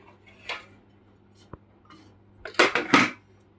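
Serving utensils clink and scrape against plates as rice is dished out for a home dinner: a faint tap early on, then a short cluster of louder clatters near the end, with no talk.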